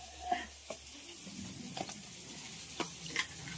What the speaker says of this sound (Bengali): তো এই পেঁয়াজটা ভাজছি